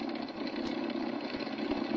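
Second aircraft engine running in a continuous, rumbling idle, loud and steady with a throbbing low pulse and no voices over it.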